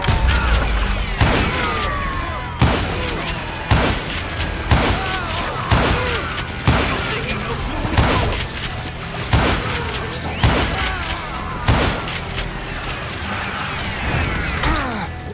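Gunfire in the Western shooter Call of Juarez: Gunslinger, repeated sharp shots and heavy thuds at a steady pace across the whole stretch, loud and close, with game voices faintly mixed in.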